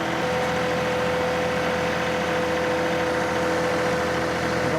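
John Deere 2038R compact tractor engine running steadily at a constant idle-like speed, a close, continuous mechanical drone with a steady tonal whine and faint vibration, alone without talk.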